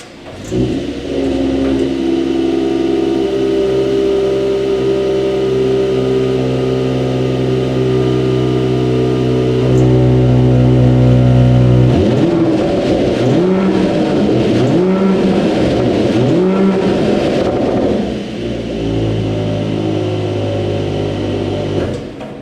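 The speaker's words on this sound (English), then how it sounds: "how about an exhaust clip, including starting off in comfort mode and then opening the exhaust in Sport Plus" A 2021 Mercedes-Benz GLE 53 AMG 4Matic SUV idles with a deep rumble, then revs repeatedly in loud rising and falling bursts, exhaust opened in Sport Plus mode, before settling back to idle.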